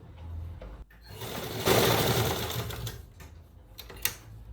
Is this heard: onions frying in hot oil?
no